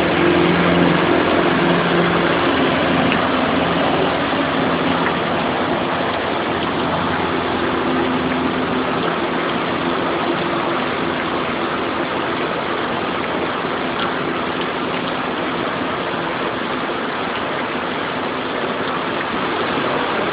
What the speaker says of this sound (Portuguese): Outros carros tentam atravessar agora a Rua da Feira